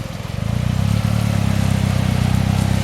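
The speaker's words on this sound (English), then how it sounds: "It will literally just idle over this curb." A 2011 Joyner Trooper idles in low gear as it crawls over a curb, giving a steady, close, low engine drone with an even pulsing rhythm that holds throughout.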